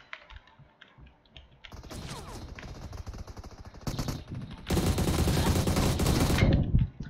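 Rapid video game gunfire crackles in dense bursts, building from scattered shots into long, loud sustained volleys that break off near the end, with faint background sounds before the shooting starts.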